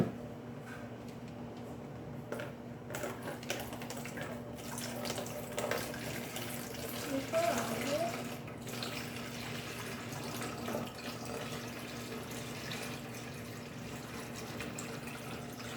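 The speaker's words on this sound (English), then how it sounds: "You want to pour the water in?" Water poured from a heavy container into a bucket for a hand cast mix, a faint steady trickle and splash under a low background hum, swelling slightly midway.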